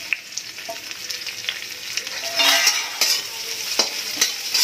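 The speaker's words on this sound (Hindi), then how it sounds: "इसी के साथ मैं अब दो स्लाइस प्याज है तो मैं डाल दूँ।" Sliced onions drop into hot oil tempered with green and black cardamom in a home kitchen, sizzling and frying with scraping stirs that grow louder and busier over a few seconds.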